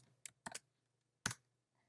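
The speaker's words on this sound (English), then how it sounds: "oh no, I am typing too fast." Typing on a computer keyboard during a JavaScript tutorial, a few quick clicky keystrokes in small bursts, close and quiet against a faint hum.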